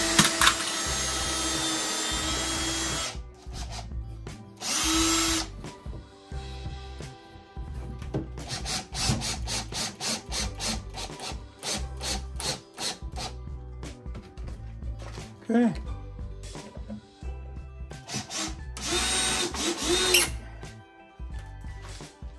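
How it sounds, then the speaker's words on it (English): A power drill bores holes and drives screws into clamped wood in repeated whirring bursts, with scraping and rubbing handling noises between the runs, close and fairly loud. "I drill a couple holes, put some screws in."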